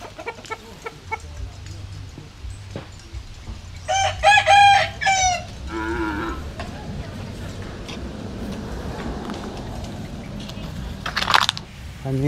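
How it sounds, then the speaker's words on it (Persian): A fighting rooster crows loudly nearby, with a harmonic call in the middle and a sharp burst near the end, over background clucking and low outdoor noise. "اوه این مرغ جنگی هم هستک"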